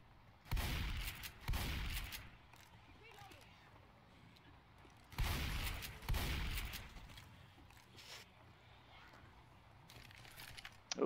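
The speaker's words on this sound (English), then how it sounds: "Yeah, Dr. Nick and his shotgun." Two loud, sharp shotgun blasts from the Left 4 Dead 2 video game ring out several seconds apart, each with a brief echoing tail over a quiet background.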